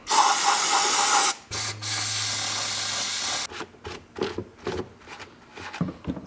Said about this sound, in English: Spray it right on there.